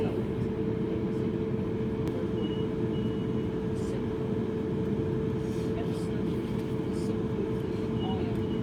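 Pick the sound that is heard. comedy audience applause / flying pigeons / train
train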